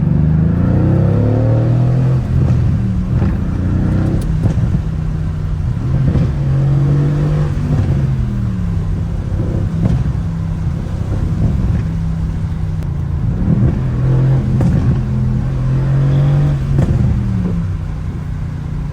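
A 500+ horsepower AMG car engine runs steadily and loudly at night, its pitch rising and falling as it revs several times, with rumbling noise throughout.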